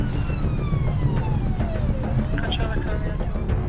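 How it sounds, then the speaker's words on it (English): A police car siren wails in slow, sweeping rises and falls over loud road and wind rumble, with a voice speaking underneath. "there's a car behind him, blue lights, sirens on."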